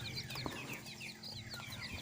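Local chicken chicks in a brooding box peep constantly in quick, overlapping high chirps at a soft, nearby level, with no voices.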